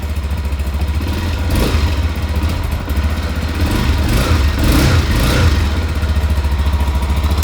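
A KPM 200 fuel-injected street motorcycle engine idles steadily with a low, pulsing exhaust rumble and light mechanical clatter, swelling slightly as the throttle blips briefly.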